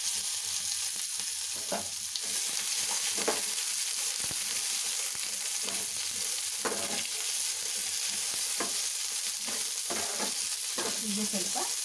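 Garlic, ginger and onion fry in a hot pan for a village-style chicken gravy, a steady loud sizzle with occasional stirring scrapes and clicks throughout, no voices.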